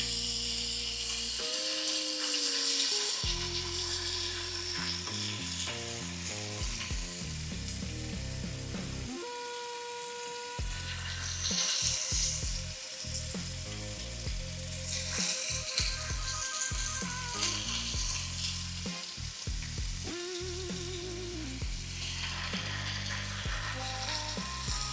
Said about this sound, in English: we're gonna put our bacon in